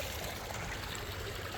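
Pumped pond water wells up through layered rock in a wetland filter, a steady close wash of flowing and trickling water with no breaks.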